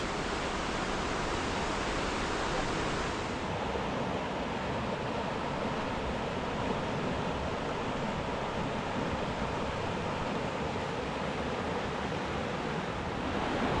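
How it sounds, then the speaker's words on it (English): A waterfall roars in a loud, unbroken rush of water that holds steady throughout, with no voices. "The mist on your face, the thunder of the falls in your chest."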